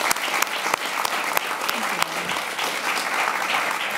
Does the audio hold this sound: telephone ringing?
no